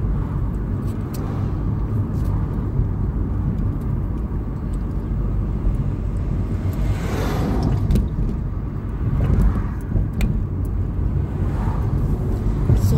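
Car driving on a sunny day in Calgary, Alberta, heard from inside as a steady, loud low rumble of engine and road noise, with a few faint clicks and passing swells.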